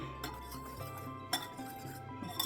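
Dry flour mixed with baking soda and baking powder in a bowl for whole wheat cookies, close, quiet utensil clinks and scrapes against the bowl repeating in a loose rhythm.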